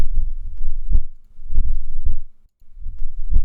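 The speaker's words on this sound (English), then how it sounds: "we have all of our bat wings and it will randomly play between them" Bat wing flapping effects are triggered at random in a Unity 2D game, making soft, low, fluttery whooshes that come in irregular bursts with a brief gap of silence, close and alone.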